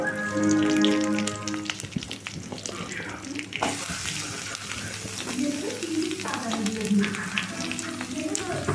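Chopped onions and green chilies go into a pan for macaroni pasta, and a wet, crackling sizzle rises after a short stretch of sustained hissing. Clattering from the pan and utensil comes close up.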